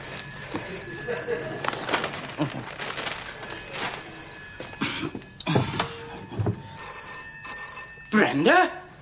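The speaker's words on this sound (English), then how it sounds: "Phone! Get it yourself." A telephone bell rings in short repeated bursts in a home setting in a 1990 British sitcom, fairly clear between stretches of conversation, with people talking around the rings.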